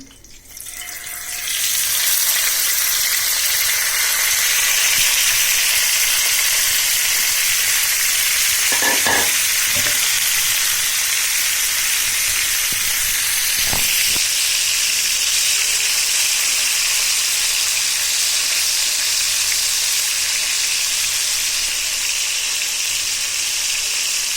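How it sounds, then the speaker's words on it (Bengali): Shrimp coated in turmeric and salt drop into hot oil in a wok, setting off a loud, continuous close-up sizzle that holds steady, broken by a few brief clinks of stirring. "এবার হলুদ আর লবণ মেখে রাখা চিংড়ি মাছগুলো দিয়ে দিচ্ছি"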